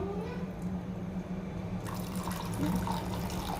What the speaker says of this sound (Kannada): ನೋಡಿ, ಇನ್ನೊಂದು ಸ್ವಲ್ಪ ನೀರು ಹಾಕೋಣ.